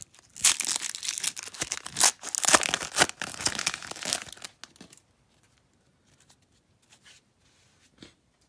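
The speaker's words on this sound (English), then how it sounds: "Let's go ahead and rip these open." 2018 Donruss football trading card packs are ripped open up close, with several seconds of loud, dense foil crinkling and tearing that then stops, leaving near silence with a few faint rustles.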